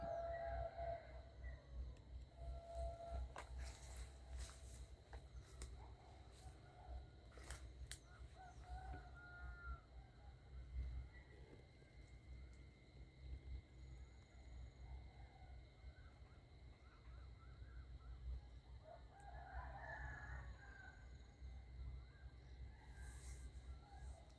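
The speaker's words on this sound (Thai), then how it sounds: "มีเสียงไก่ขันด้วย" Faint rooster crowing in the distance at dawn over a steady low outdoor hum, with scattered bird chirps around it, near misty fields.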